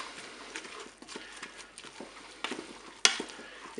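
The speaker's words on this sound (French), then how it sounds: "Je mélange." Egg yolks being stirred into spaghetti in a Cookeo pot, soft irregular scraping and wet clicking strokes close up, with a sharper knock near the end.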